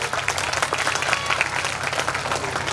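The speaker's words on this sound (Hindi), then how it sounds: "उनके लिए भी एक जोरदार ताली होनी चाहिए।" A school annual day audience breaks into loud applause, a thick, continuous patter of many hands clapping close by, steady from start to finish with no talk over it.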